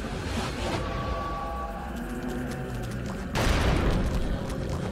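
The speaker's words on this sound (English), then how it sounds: "Use the pistol." Pistol shots in the GameCube game Eternal Darkness: Sanity's Requiem, a burst of sharp reports with a loud blast near the end, set against a steady game soundscape.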